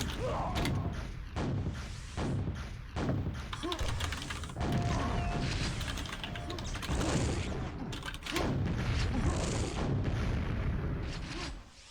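Rockets firing and exploding in a QuakeWorld duel, a run of sharp launches and blasts mixed with clanking mechanical game effects, fairly busy and repeated across the stretch, with faint talk underneath.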